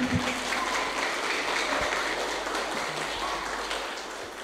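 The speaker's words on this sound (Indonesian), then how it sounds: "tepuk tangan dulu dong" An audience at a search-and-rescue training session claps steadily, a dense wash of applause that fades slightly toward the end.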